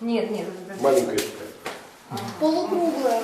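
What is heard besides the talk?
None of the usual background noises is heard.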